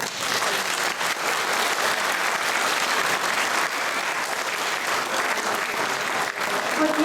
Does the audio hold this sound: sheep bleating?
no